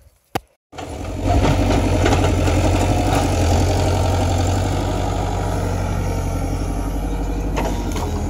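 A small click comes first, then an excavator's engine catches and settles into a loud, steady idle rumble that holds close by with no talking.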